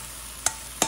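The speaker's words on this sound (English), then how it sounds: "finally we're going to add our beaten eggs." Beaten eggs stirred in a hot pan of pork fried rice made with riced cauliflower, giving a steady soft sizzle broken by two quick, sharp scrapes of the spoon.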